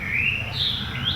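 A thrush sings in the evening on a conservancy property: a short, clear, whistled phrase with sliding, rising notes, heard at moderate distance over a low background rumble.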